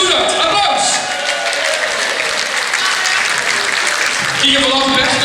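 A hall audience applauds a performer at a Limburg carnival song contest prize announcement, with loud, sustained clapping and crowd noise throughout and some cheering voices mixed in.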